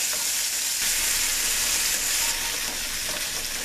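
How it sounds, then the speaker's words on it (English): Egg scramble cooking in a pan, a steady broadband sizzle and crackle of frying with stirring scrapes throughout, close and fairly loud, no talking. "what you want to do is just keep stirring it, and this should really only take about 3 minutes to cook"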